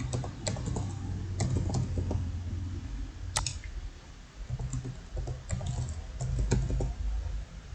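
A password is typed on a computer keyboard in quick irregular bursts of close, crisp key clicks, with brief pauses between runs of keystrokes.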